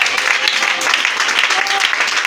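A church congregation applauds and cheers for a preacher during a morning service, a dense, steady wash of clapping filling the whole moment without a break.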